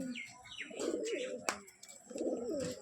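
A pair of kalchiya pigeons in a cage coo in two rolling low phrases, close up, with thin chirps above and one sharp tap between them.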